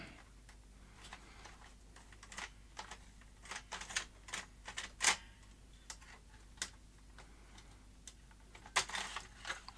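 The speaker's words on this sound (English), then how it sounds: "Bit of trouble getting this tape out." A cassette is worked out of a Philips VR2220 portable V2000 video recorder, heard as faint, irregular clicks, ticks and plastic rattles from close up, with no voices.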